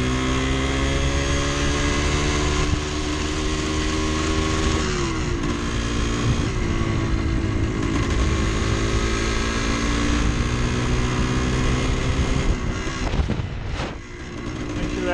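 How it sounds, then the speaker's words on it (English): A 1974 Yamaha DT360A motorcycle engine runs during a ride, a loud, steady drone whose pitch rises and falls with the throttle and shifts, with no talk over it. "Oh yeah, she's running nice and smooth."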